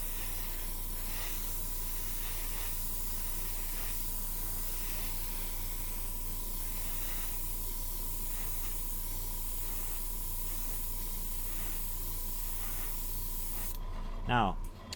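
An airbrush hisses steadily as it sprays paint across the roof of a scale model, a continuous close, even spray with a faint steady tone running through it before a brief clatter at the very end.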